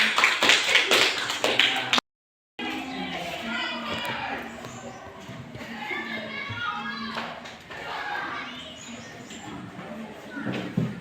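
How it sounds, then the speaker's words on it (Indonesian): Students in a madrasah classroom at MTsN 7 Aceh Utara clap loudly for about two seconds; after a brief cut, children's chatter and scattered voices fill the room. "Kita berikan aplaus sekali lagi."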